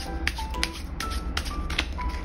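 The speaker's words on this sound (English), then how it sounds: "Shuffle the cards" Playing cards being shuffled for a kindergarten addition card game, a few quick riffling bursts with soft taps over low background hum.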